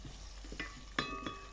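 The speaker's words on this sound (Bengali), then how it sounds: "পেঁয়াজটাকেও আমি হালকা করে ভেজে নিচ্ছি।" Chopped onion frying in spiced oil inside a rice cooker while making spicy bhuna khichuri, a steady soft sizzle with a few sharper stirring clatters near the end.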